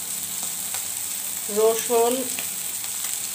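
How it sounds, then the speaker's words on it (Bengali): Small puti fish fry slowly in a pan with a steady, close sizzle that runs throughout, while a voice briefly speaks over it. "এখন মাছটা আস্তে আস্তে ভাজা হোক"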